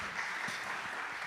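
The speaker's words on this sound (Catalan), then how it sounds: "Evidentment, un fort aplaudiment." Brief applause from the audience at a culinary round-table on romesco, a soft steady patter of many hands clapping at a moderate, even level.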